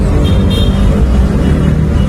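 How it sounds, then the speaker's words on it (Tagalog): Heavy, slow-moving road traffic on Rizal Avenue, heard as a loud, steady low rumble of engines that stays close and constant throughout, with no clear voices. "nandito kami ngayon sa Rizal Avenue at sobrang traffic"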